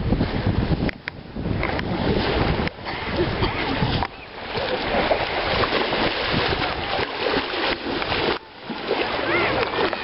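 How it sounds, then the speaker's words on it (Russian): Sea surf washes onto a beach at Saki, a continuous loud rush of breaking waves and splashing, heavily buffeted by wind noise on the microphone, with people talking now and then. "на пляже прибой"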